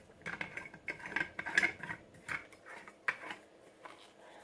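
An Oster Pro 1200 blender jar is set and twisted onto its base, giving a series of light plastic clicks, scrapes and knocks, close and fairly quiet.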